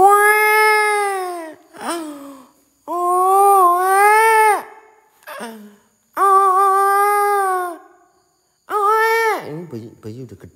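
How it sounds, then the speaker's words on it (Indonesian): Loud, close baby-like wailing heard while exploring a reputedly haunted hospital in Kebumen comes in long sobbing bursts with short gaps, the cries straining and quavering. "Ada suara bayi, serius ada suara bayi nih."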